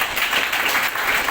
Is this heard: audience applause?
yes